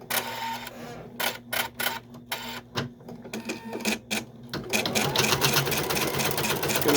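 An embroidery machine runs a stitch along the bottom of fabric held in a hoop, first in short bursts of rapid mechanical rattling, then in a continuous loud whirring stitch, close up.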